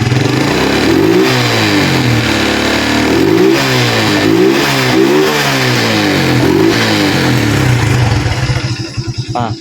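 Honda Blade 125 motorcycle engine with fuel injection, revved repeatedly by hand throttle, close and loud, its pitch rising and falling in a series of swells over a steady running note before settling toward idle.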